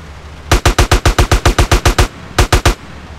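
Rapid automatic gunfire in GTA San Andreas, a loud burst of about a dozen evenly spaced shots followed by a brief pause and a short three-round burst, with no talking.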